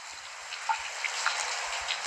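Shower water running in a home bathroom, a steady soft hiss of spray with a few faint droplet splashes and small knocks, moderately close and uninterrupted.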